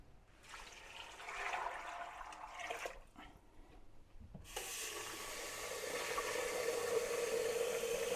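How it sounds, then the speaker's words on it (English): Hot water pours into a pot of dried beans for homemade UK-style baked beans, a steady splashing flow that breaks off briefly and then resumes as a fuller, continuous filling rush. "And you want to fill it up with some hot water."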